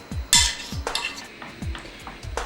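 A utensil stirs melted chocolate batter in a bowl, giving repeated scraping strokes and light clinks against the side at an uneven rhythm, close and alone.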